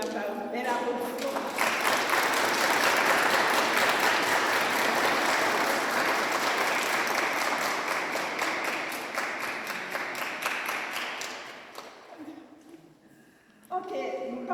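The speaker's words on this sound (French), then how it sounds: "On dit merci pour de la belle applaudissement." Sustained congregational applause during a Sunday Mass in church, a dense wash of many hands clapping for about eleven seconds before fading, with a voice speaking near the end as the clapping trails off.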